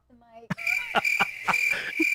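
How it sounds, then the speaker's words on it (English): A crickets chirping sound effect plays as a run of evenly spaced chirps over a steady high trill, loud and close, with a brief voice at the start. "Oh, crickets."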